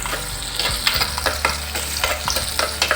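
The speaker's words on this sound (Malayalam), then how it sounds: "ഒരു രണ്ട് കറിവേപ്പില ഇതിട്ട് ഒന്ന് വാടി വരട്ടെ" Ginger, green chillies and curry leaves saute in a years-old pan, a steady close sizzle with repeated scraping stirs of a spoon against the metal, no talking.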